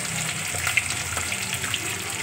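Hot water hits frying mustard paste in a pan, giving a continuous broad hiss and sizzle with light bubbling crackles, close and steady throughout.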